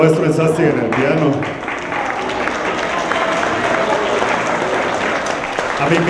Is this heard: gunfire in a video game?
no